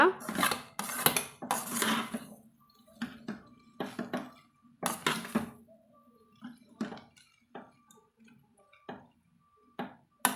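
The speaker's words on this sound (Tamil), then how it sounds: "சிம்லையே வச்சுட்டு இது போல் நம்ம கலந்து விட்டுக்கலாங்க" Vegetable noodles are stirred in a pan over low heat, a utensil scraping and clattering against the metal in irregular bursts, close and fairly loud, with quiet pauses and faint sizzling between strokes.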